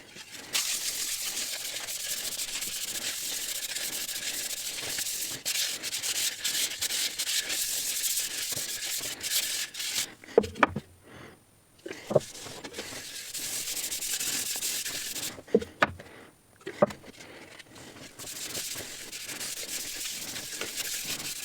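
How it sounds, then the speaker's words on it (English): A wooden ball is sanded by hand, with a continuous gritty, rasping friction that runs in long strokes, broken by short pauses and soft knocks as the grip shifts. "now you'll see a little bit of sanding"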